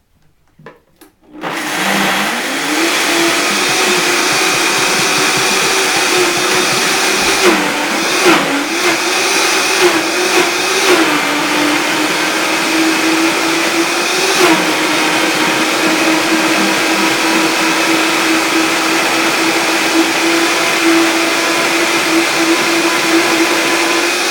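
A high-powered blender, apparently a Vitamix, pulverizes half a clove of raw garlic with other raw ingredients, a loud steady whir that kicks in after a brief pause and holds near-constant for over twenty seconds, its pitch dipping slightly as the load shifts.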